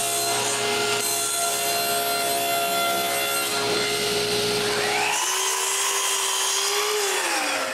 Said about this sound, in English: I begin by measuring what I need and cut 10 pieces of plywood.